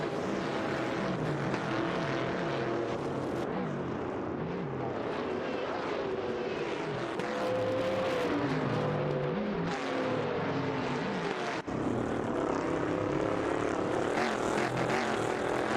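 A pack of cars, including two 1971 Ford Torinos running side by side, races in an AI racing video game, making a dense, continuous engine roar with shifting pitches that stays loud throughout, with no voices.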